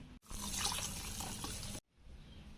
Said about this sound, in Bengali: দুধটা কিন্তু আমি খুব সুন্দরভাবে গুলে নিয়েছি এবার এখানে আমি ঢেলে দেব